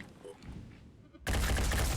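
In the game Phoenix Point, a sniper rifle fires in a sudden loud blast with a sustained roar after a quieter stretch of background game noise.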